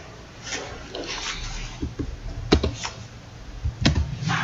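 Keys on a computer keyboard clack in irregular bursts up close, with a few sharper isolated taps, as text is typed into the Octave programming application.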